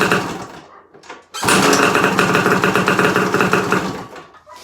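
A 1971 Rickman Zundapp motorcycle engine sputters briefly, then catches and runs loud and close with a rapid, buzzing two-stroke-like rattle before dipping near the end.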